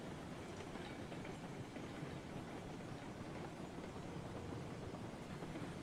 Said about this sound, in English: Just gonna watch the train from back here.